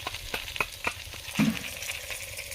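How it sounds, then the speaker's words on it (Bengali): Potatoes frying in oil during village-style country chicken curry cooking, a soft steady sizzle with several short clinks or stirring taps and a brief low thump, close and fairly quiet. "আলু ভাজা আমাদের প্রায় হয়ে এসছে"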